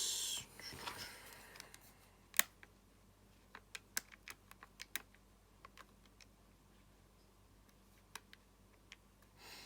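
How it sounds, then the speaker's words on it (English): Numbers being typed on a computer keyboard: scattered, quiet, sharp key taps in an irregular rhythm over a soft room hush, with no talk. "I'm just typing some numbers in, trying to get the right ones"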